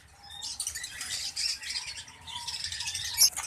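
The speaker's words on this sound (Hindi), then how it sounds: "लोटिनो पसनाटा ब्लैक आई का पेयर है माशाल्लाह।" A pair of Lutino personata black-eyed lovebirds gives quick, high chirps and squawks in close succession, with soft rustling behind them.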